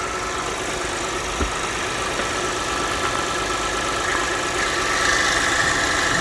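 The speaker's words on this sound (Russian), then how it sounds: "Toyota Mark X. Кузов GRX 125, двигатель 4GR FSE," A 2005 Toyota Mark X (GRX125 body) with its 4GR-FSE engine idles steadily and close by, a continuous mid-range hum with faint vibration and no pauses or voices.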